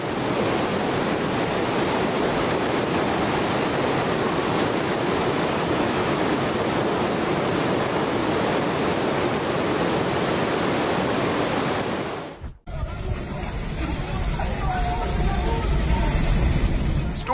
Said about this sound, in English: Storm Harry suddenly sent massive waves crashing into a town in Italy.